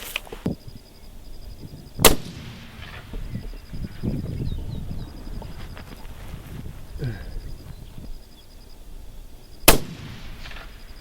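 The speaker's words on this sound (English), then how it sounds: "All right, we'll shoot one more." Two sharp, loud rifle shots from a Remington 300 Ultra Mag or 6.5x284 Norma at an outdoor range, well spaced apart, with wind noise and faint voices in between.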